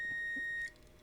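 A single steady multimeter continuity beep, clear and close, lasting about two-thirds of a second before cutting off.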